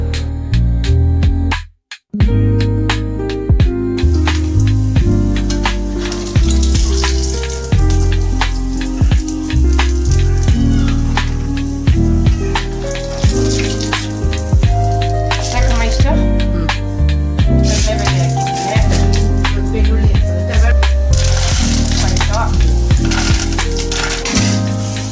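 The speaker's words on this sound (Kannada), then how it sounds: "ಕಡಲೆ ಬೀಜನ ಎಣ್ಣೆಗೆ ಹಾಕಿ ಎಣ್ಣೆ ಕಾದ್ಮೇಲೆ ಎಣ್ಣೆಗೆ ಹಾಕಿ ಕರಿದು" Peanuts fry in plenty of hot oil in a pan for tamarind gojju, with a loud, continuous bubbling sizzle and rattling crackles close up. The sound breaks off briefly near the start.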